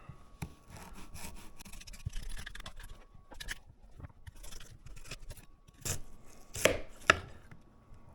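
A knife chops through one carrot and a chunk of turnip on a board in a home kitchen, a run of steady close cuts followed by a few sharper, louder slices near the end.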